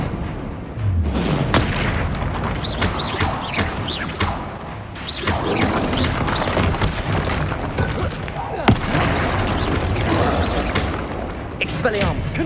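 Spell explosions in the Hogwarts Legacy video game, a dense run of booms, crashes and magical impacts in quick succession, mixed with a voice shouting spell names.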